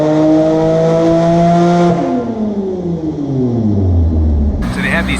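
A 1974 Mini Super Cooper S engine runs on a dyno, holding a loud steady tone and then dropping off, its harmonics sliding down toward idle, with a brief high whine near the end.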